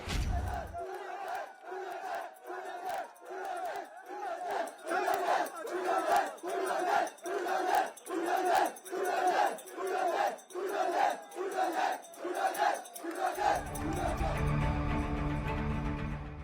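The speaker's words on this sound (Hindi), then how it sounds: "बाहर मौजूद भीड़ ने विधायक के सामने ही बुलडोजर की नारेबाजी शुरू कर दी।" A large crowd outside a mosque in Jahazpur chants rhythmic bulldozer slogans in front of a legislator, loud repeated shouted phrases pulsing roughly every half second, then merging into a sustained roar near the end.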